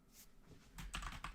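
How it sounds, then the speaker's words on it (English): Quick bursts of typing on a computer keyboard, soft scattered clicks at first building to a denser, louder run of keystrokes near the end, close to the microphone with no talking. "Typing. Let me do it here quickly."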